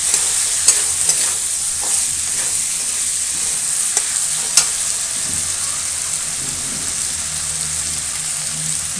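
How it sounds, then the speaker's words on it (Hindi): Chopped tomatoes sizzle and fry in a hot pan for a potato and pea curry, a steady close crackle with occasional stirring clicks throughout. "अब इसमें टमाटर डालेंगे, टमाटर को गलने तक पकाऊंगी।"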